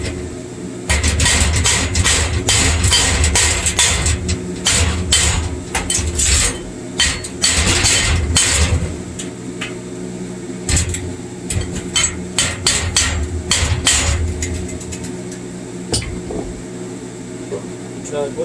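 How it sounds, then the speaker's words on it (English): Hammer chipping slag off an old 7018 stick-electrode weld, a rapid series of sharp metallic taps in clustered bursts with brief pauses, close and loud over a low steady hum. "Chip the slag off my old weld."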